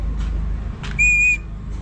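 A hand-carved deer antler whistle sold at an agricultural show gives one short, clear, shrill blast, close by, with faint breathy sounds and light background noise around it.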